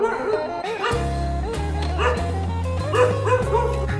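A dog near Talakona falls by Tirupati barks and yips repeatedly in close, loud bursts with an uneven rhythm, some calls sliding into whimper-like tones.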